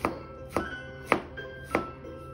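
A chef knife slices through food on a cutting board after peeling and trimming, giving four sharp, evenly spaced cuts about half a second apart, close and clear with no talking.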